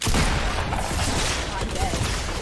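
Rapid gunfire and shotgun blasts in a video game form a dense, loud, continuous barrage of booming shots, with voices talking underneath.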